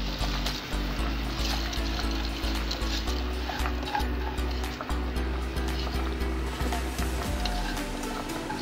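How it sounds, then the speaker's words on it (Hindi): Water boiling hard in a pot, ready for rice for Hyderabadi beef tahari, a steady close bubbling hiss with a low hum underneath. "पानी हमारा अच्छे से खौल गया है"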